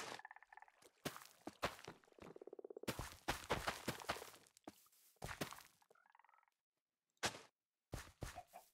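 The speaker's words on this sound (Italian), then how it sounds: "Le rane, hai visto dove stanno le rane? Tutte qua intorno." Frogs in the video game Minecraft croak in sharp, repeated bursts and gurgling rattles, close and clipped, with short silent gaps between the calls.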